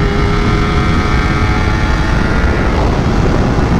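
Kawasaki Ninja 250R engine screaming at high RPM in second gear while riding, a loud, dense and steady whine with rushing wind noise, no voices.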